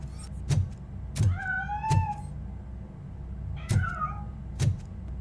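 A cat meows in the RoboCop: Rogue City video game, with two clear rising-and-falling calls about two seconds apart, surrounded by sharp thuds, over a low steady hum.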